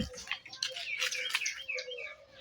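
Small birds chirp and tweet in a steady, overlapping stream of short, high calls at moderate distance, perched near newly hung water bowls for birds in rural Gujarat; no voices.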